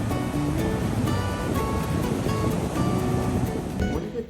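Ocean surf at a Texas beach produces a steady, broad wash of waves, with wind buffeting the microphone and a continuous roar that holds at an even level without breaks.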